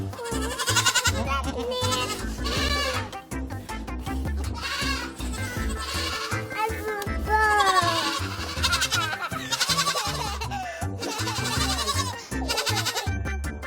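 A goat bleats again and again in short, wavering cries, loud and nearby, over a busy background.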